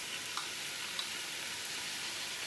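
Vegetables and garlic sautéing in a pan give a steady, even sizzle with a couple of faint ticks, close and alone without talk.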